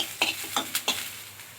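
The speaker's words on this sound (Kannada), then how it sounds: "ಒಂದು ಸ್ವಲ್ಪ ಎಣ್ಣೆ ಹಾಕೊಂಡು ಹುರ್ಕೊಂಡು ಹುರ್ಕೊಂಡು ಈರುಳ್ಳಿ ಬೆಳ್ಳುಳ್ಳಿ" Onion and garlic fry in a little oil for bassaru, a quiet, low sizzle punctuated by four brisk scraping stir strokes in fairly even rhythm, close by and fading slightly after the last one.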